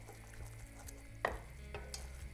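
Caramel cooks in a pot on the stove with a faint, quiet sizzle and soft bubbling, plus a single stirring scrape partway through, with no voices.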